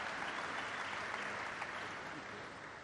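An audience applauds inside a tent at a battery factory groundbreaking ceremony, a dense sustained clapping that fades slightly toward the end.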